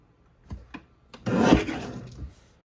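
Cardstock is cut on a paper trimmer, with a couple of light taps and then one short rasping slide of the blade through the card, close and clear.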